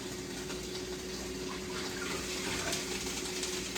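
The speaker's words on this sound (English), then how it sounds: "I have 2 cans of the Manwhich Bold. And I'm going to pour it off in there." Two cans of Manwich Bold sloppy joe sauce poured fast into a pan, a steady thick gushing pour that runs loud and continuous throughout with no talking.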